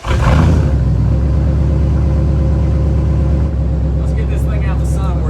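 An old OBS Ford truck engine with redone exhaust rumbles at a steady idle after a brief cranking start, loud and close, with a slight drop in level late on and a voice talking faintly over it near the end.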